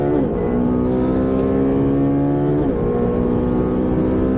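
A sports car pulls hard and loud from inside the cabin, a dense rising engine note that drops briefly at a gear change before climbing again, no talking over it.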